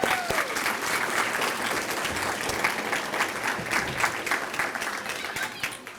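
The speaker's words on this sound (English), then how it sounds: "Let's give them a round of applause." Sustained audience applause fills a school's 50th anniversary celebration at Key Elementary, a dense, steady clapping from a large crowd that holds for several seconds before easing slightly at the end.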